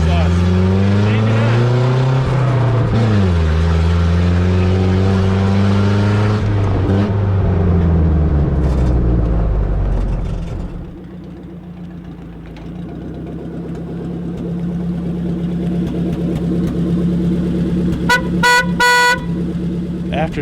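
A Citroën DS 19 Berline driving, its engine rising and falling through the gears loud and close for several seconds, then settling to a lower drone, with a few short horn toots near the end.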